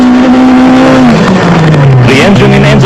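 A Sasol VW Golf rally car runs at speed in heavy rain during the 2001 Rally of South Africa, its engine note droning steadily and then dropping in pitch through a gear change, with road and spray noise filling the background.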